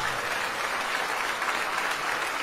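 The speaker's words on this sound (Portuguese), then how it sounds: "Vamos aplaudir mais ao nome de Jesus" A church congregation claps in sustained applause, many hands blending into a loud, even roar of clapping that carries unbroken throughout with no speech on top.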